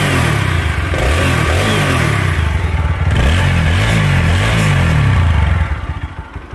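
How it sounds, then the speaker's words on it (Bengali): A 2019 TVS Apache 4V 160 cc motorcycle engine revs loudly up close, a throaty exhaust rising and falling through several throttle blips before settling back toward idle near the end. "এবারে অ্যাক্সিলারেটর দিই"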